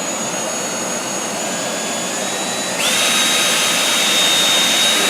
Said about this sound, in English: we're just going to drill this hole